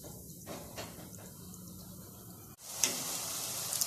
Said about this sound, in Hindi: अब ऑयल में डालेंगे।